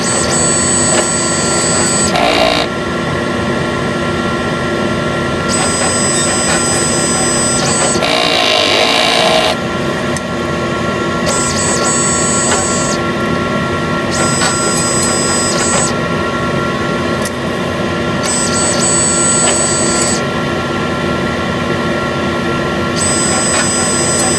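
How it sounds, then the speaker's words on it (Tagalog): A Smart One sublimation printer runs a head clean, giving a steady mechanical whir and hum with repeated high-pitched servo whines that start and stop over about twenty seconds, close and continuous with no talking. "Ito po ang Smart One printer."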